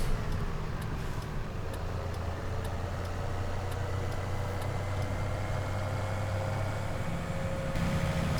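A tractor engine in Farming Simulator 17 runs at a steady low drone with a constant hum and faint ticking overtones, loud and unbroken throughout with no voices.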